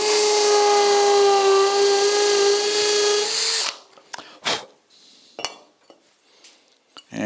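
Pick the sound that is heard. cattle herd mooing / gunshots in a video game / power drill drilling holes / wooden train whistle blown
power drill drilling holes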